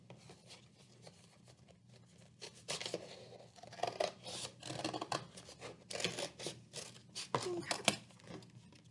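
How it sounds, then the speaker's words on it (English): Scissors cut through paper to shape a dog mask, making a rapid run of crisp snips and rustles that grows busier and louder midway and continues steadily in a quiet room. "you're going to take your scissors."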